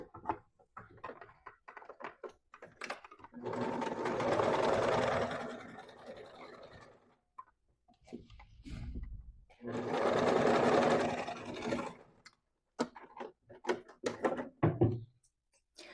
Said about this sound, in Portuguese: Nós vamos passar meio centímetro de costura.